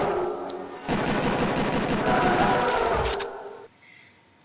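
Dense, sustained gunfire and explosive blasts from a shotgun in the first-person shooter Duke Nukem roar loudly for about three seconds before cutting off to quiet ambience.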